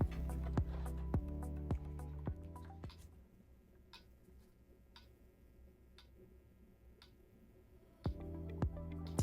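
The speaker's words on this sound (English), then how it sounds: "Hear that ticking? That's what they're doing." A bricked Option-O Casa 65CL coffee grinder motor ticks in evenly spaced sharp clicks, loud at first, then fainter through a quieter stretch before louder ticks return near the end.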